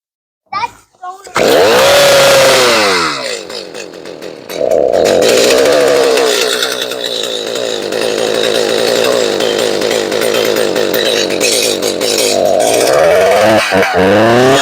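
A gas chainsaw cuts through a rotten, slanted wooden garden edger board outdoors, a loud steady whining roar that dips and rises with the cut for over ten seconds before revving down, with children's voices briefly beneath it.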